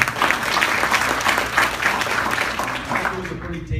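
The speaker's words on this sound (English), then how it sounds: "Give them a round of applause." Applause for city council candidates at a debate fills the room, a dense patter of many hands clapping that fades out at the end, with a voice speaking over it.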